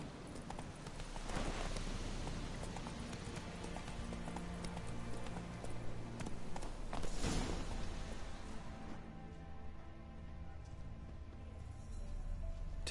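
Roach the horse galloping in The Witcher 3: steady, rapid clip-clop of hooves running continuously over a loud, constant outdoor game backdrop with rushing wind.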